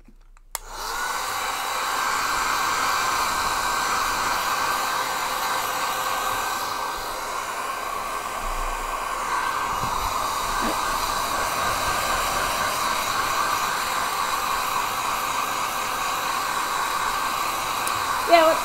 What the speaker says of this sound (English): Let's get the hair dryer out